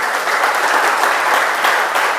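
A church congregation applauds and cheers for God at a Mentawai gathering, dense steady clapping and crowd noise filling the whole stretch without pause, loud and close.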